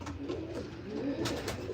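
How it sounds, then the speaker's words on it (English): Racing pigeons coo in a loft during molt, several soft overlapping low coos at close range with some rustling, no talking. "Thomas, these are racing pigeons."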